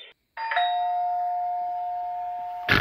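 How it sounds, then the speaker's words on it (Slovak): An electronic doorbell rings once indoors with a clear, sustained two-tone chime that holds steady for about two seconds before a sharp click-like burst ends it. "už zvonia kamaráti"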